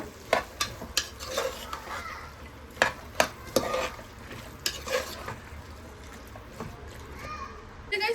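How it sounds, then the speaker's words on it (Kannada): A spoon stirs green peas into a sizzling tempering in a pan for tomato bath, with repeated sharp scraping clacks in an irregular rhythm over a continuous fry, close up, and some talking. "ನೀಟಾಗಿ ಮಿಕ್ಸ್ ಮಾಡ್ಕೊಳ್ಳೋಣ ಇವಾಗ."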